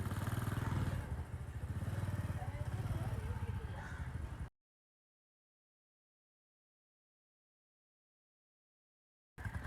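A motorcycle low on oil runs with a rattling, clattering engine noise, loud and close for about four and a half seconds, with a voice talking over it, before cutting to silence and a brief return at the end.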